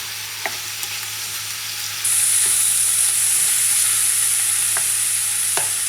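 Two pounds of ground meat for a big batch of chili sizzle loudly in a pot while being stirred, with occasional scraping knocks over a constant hiss that grows louder partway through.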